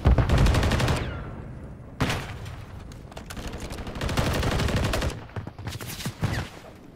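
Bursts of automatic gunfire in the video game Modern Warfare 3, several long rapid volleys separated by brief pauses, loud and close with no talking.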